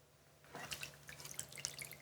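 Soft, close liquid splashes and drips as a saw blade is dipped into a cleaning solution and lifted out, faint and brief with small scattered drops.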